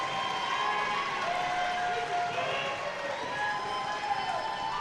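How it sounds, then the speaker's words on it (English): Applause at a girls high school regional semifinal basketball game between Lytle and CC London, a steady, moderate crowd clapping and cheering in a gym, with squeaks and faint voices mixed in. "Round of applause for Katie Martinez by the Lytle Lady Pirates."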